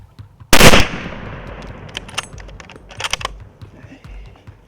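A single loud gunshot rings out close by, with a sharp crack and a long decaying echo, followed by quieter shuffling and faint clicks, during a buffalo hunt.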